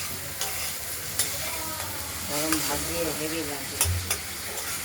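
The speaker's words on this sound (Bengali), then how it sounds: "আমরা কড়াইতে এই বাটাগুলো দিয়ে দিলাম।" Ground ridge gourd paste frying in oil in a wok, a soft steady sizzle with stirring clinks and bubbling, fairly quiet and close.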